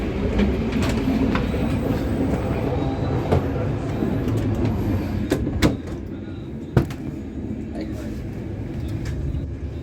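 Riding inside a passenger train carriage in Egypt, a continuous rumble of the moving car with a few sharp knocks and clacks, voices chatting faintly now and then.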